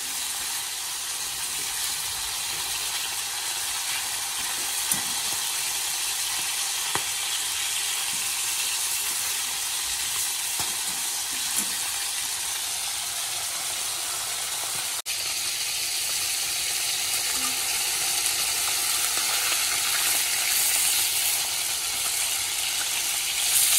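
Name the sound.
frying pointed gourd (potol) in oil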